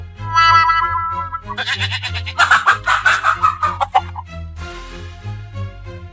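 A rooster crows loudly and close, with strained cackling and clucking around the call over several seconds, alone without talk.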